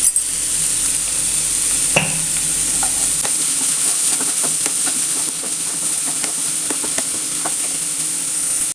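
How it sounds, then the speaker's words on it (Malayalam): Semiya vermicelli being sautéed with salt in a pan, a steady close sizzle and frying hiss with repeated light stirring scrapes and clicks throughout, no voices. "നല്ലോണം നമുക്കിതൊന്ന് വഴറ്റിയെടുക്കാം."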